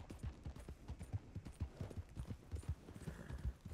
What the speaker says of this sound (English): Let's see what this little horsey can do.